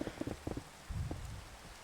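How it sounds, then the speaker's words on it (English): Rain in the Minecraft Java 1.17 video game, a faint steady patter under a few soft low thumps and bumps. "I really wish rain would not happen right when I'm talking about it"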